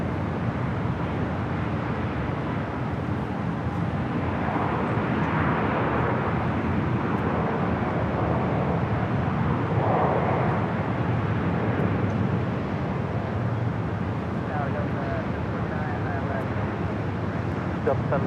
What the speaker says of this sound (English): This is United Airlines 1845 coming in from Baltimore on the MAX 8.